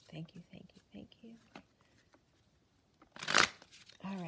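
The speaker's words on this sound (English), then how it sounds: "for Capricorn, one more shuffle." Quiet whispered speech, then a sharp burst of tarot cards being shuffled, riffling briefly and loudly before a voice resumes.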